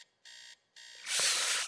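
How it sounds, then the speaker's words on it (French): An in-game alarm clock beeps in two steady electronic bursts with short gaps, then a loud burst of broadband noise follows as the ringing is cut off, close and with no talk. "Oh mon réveil."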